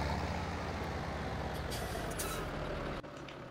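A rough, croaky vehicle engine in Farming Simulator 2017 runs as a loud, steady low rumble with hissing, air-brake-like bursts near the middle, alone without talk, ending in a brief dip.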